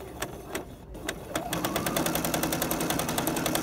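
A home sewing machine stitches along a ruler template, starting with a few separate thumps of the needle and then running into a fast, even, close-up rattle of stitches that carries on to the end.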